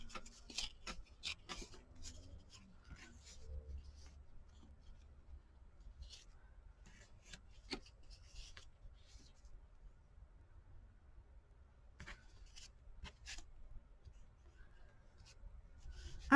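Paper or cardboard is torn and handled at close range for a card-making project, with bursts of ripping and rustling at the start and again later, separated by quieter stretches with light scraping.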